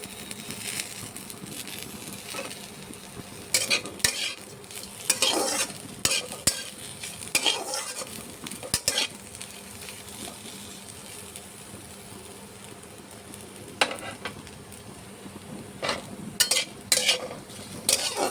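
Sliced sweet pumpkin fries in a pan with coriander leaves, under a soft continuous sizzle broken by bursts of scraping and stirring at irregular intervals, close up and without speech.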